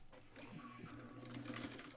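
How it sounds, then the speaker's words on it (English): A vintage sewing machine stitches fabric for a quilt carrier, running as a steady, quiet mechanical whir with a faint rhythmic hum throughout the short stretch. "Now I can sew either direction on this vintage machine"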